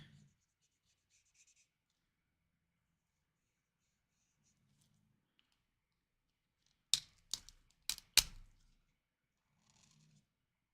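A brush tip pen drags across paper while making a card, with a few crisp scratchy strokes close by in a cluster late on, amid long near-silent stretches.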